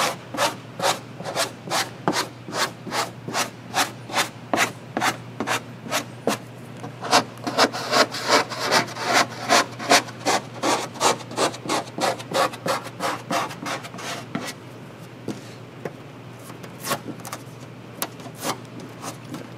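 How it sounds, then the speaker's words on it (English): A squeegee rubs a vinyl Spear Heritage graphic onto the body of a Ford Bronco, producing close, loud, rhythmic scraping strokes repeated rapidly about twice a second with no talking. "I am going to go back over with the squeegee."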